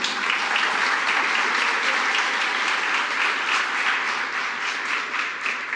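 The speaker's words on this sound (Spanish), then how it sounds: "¿Cuánto le dan un aplauso al Señor?" A church congregation gives sustained applause during a sermon, dense and steady clapping from a large crowd that holds evenly throughout.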